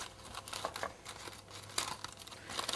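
Foil crinkles and tears as a wrapped bulb of roasted garlic is opened by hand, with soft, irregular rustling bursts close up and quiet.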